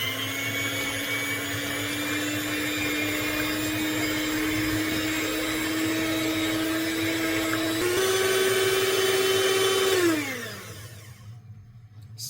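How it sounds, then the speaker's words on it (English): An electric mixer stirring a mixture, with a steady motor whine that rises slightly in pitch, then winds down and stops near the end. "I use the mixer because it's easier to stir very well."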